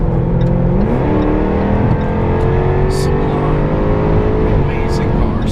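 A 2016 Jaguar F-Type R AWD coupe with switchable exhaust drones loudly, its engine note rising as it accelerates and then holding a steady, rumbling pitch while someone talks over it.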